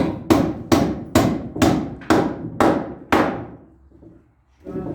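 Hammer blows drive nails into very hard oak in an attic, seven loud, sharp, evenly spaced strikes ringing close by, then a short pause before more noise starts.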